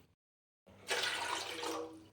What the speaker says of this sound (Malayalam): അപ്പം ഞാനിപ്പോൾ ഒരു 3 കപ്പ് വെള്ളം ഇതിലൊഴിക്കുന്നുണ്ട്